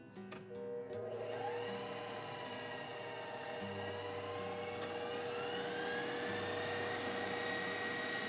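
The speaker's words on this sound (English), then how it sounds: "we'll just put it back on high and whisk it till it's all mixed and just like whipped cream" An electric mixer whisks a vanilla mixture, spinning up from a start into a loud, steady high-speed whine that holds for several seconds, close by.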